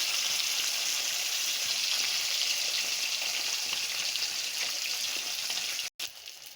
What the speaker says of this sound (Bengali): আর এক পিঠ উল্টে দিলাম, আর এক পিঠও লাল লাল করে ভেজে নেব